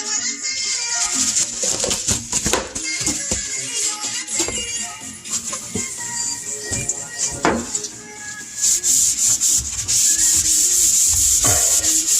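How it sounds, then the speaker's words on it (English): Kitchen cabinet doors are sanded, producing a continuous close rasping scrub with rhythmic strokes, some knocks and shifts in pressure, and a brighter, steadier hiss toward the end. "so we sanded"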